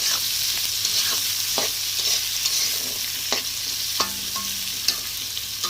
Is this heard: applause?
no